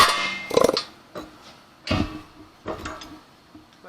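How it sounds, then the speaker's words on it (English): Mac pneumatic air hammer pounding on a Honda Pilot's suspension during transmission removal, heard as a loud rattling burst followed by several shorter, fainter hits spaced irregularly. "These Mac air hammers, these things, they're stout"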